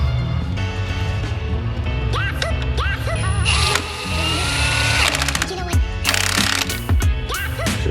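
Bolt tightened in a garage during a manual transmission install: busy mechanical ratcheting and clanking over a dense, loud workshop din, with voices talking throughout.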